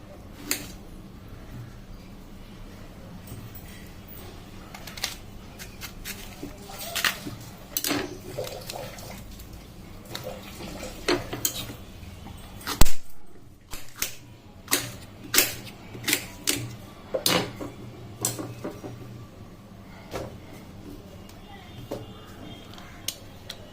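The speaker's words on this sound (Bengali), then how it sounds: "এরপর ভালো করে ছোটো ছোটো পিস করে কেটে নেব" A knife chops peeled raw green mangoes into small pieces on a board. Sharp, irregular taps come sparse at first, then quicken into a denser run of louder chops over a quiet background.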